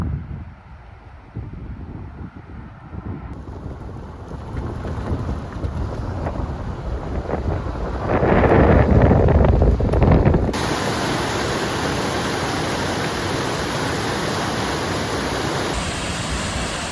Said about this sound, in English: We're up at the larger of the two of the Gergeti Waterfalls, just above Kazbegi.